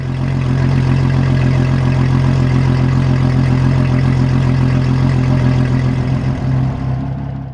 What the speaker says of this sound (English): Steve climbed aboard and fired up the engine.